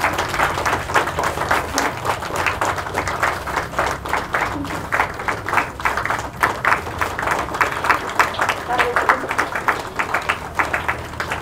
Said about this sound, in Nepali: यहाँहरू सबैले ताली बजाएर साथ दिनुहुनेछ।